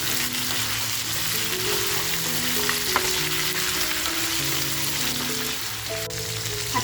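Mutton kharda fries in a pan with a loud, continuous crackling sizzle that holds steady throughout, with only occasional faint stirring movements and no voices.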